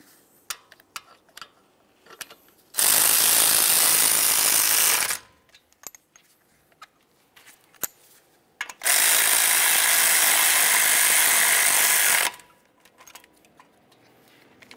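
A power tool on a 2011-2018 Volkswagen Jetta's front brakes runs the caliper slider pins snug in two sustained, loud bursts of about two and five seconds, with a few small clicks and handling knocks between them.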